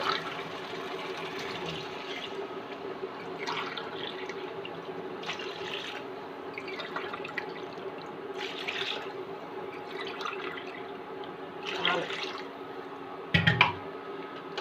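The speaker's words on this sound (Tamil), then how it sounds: "நாலு கிளாஸ் தண்ணி ஊற்றிருக்கேன்" Water is poured from a glass into uncooked rice in a pot for an aloo rice dish, with close, irregular splashing bursts and gurgles over a quiet kitchen background.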